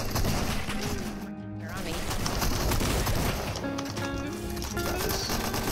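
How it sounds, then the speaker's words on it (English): Fortnite gunfire in a busy game mix, with rapid repeated shots and bursts layered over game sounds and music while a player talks throughout. "I'm gonna go up there and just keep shooting at them and distract them."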